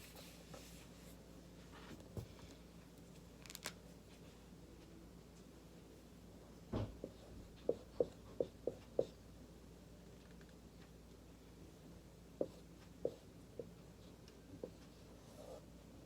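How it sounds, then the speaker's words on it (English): Marker or chalk writing on a classroom board during a math lesson, a faint scratchy rub with a cluster of quick taps and squeaks in the middle and a few more later, no talking. "I'll write it up on the board and then work it out"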